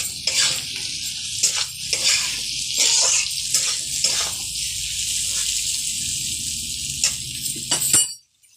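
Potatoes fry in a pan with a steady, bright sizzle of hot oil, broken by short clinks and scrapes of stirring, close and loud, until the sound cuts off abruptly near the end.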